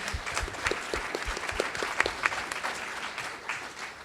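Applause at a foster care conference panel on at-risk families, honoring foster youth who spoke; a moderate, fairly sparse round of clapping with distinct individual claps fills the room throughout.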